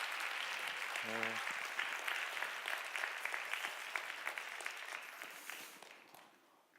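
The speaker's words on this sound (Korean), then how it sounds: "한유진 자매에게 큰 박수 하겠습니다" A young adults' church service congregation gives sustained applause that fades out toward the end, with a brief spoken word near the start.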